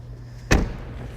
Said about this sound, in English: So let's go ahead and close the door of the car.